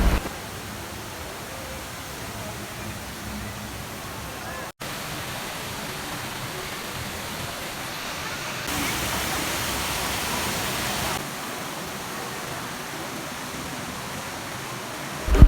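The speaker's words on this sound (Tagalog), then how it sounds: "Sobrang relax nga pakinggan ng tubig dito na bumabagsak sa may basement 2" Water pours steadily into the second basement level of a Singapore shopping mall, over the food court area, with a dense, continuous rushing like a small indoor waterfall. It is even and alone, with brief dips in the noise.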